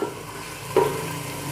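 Garlic and chili paste fries with turmeric, chili powder and salt for a potato yogurt curry, a soft steady sizzle with a brief stir sound partway through.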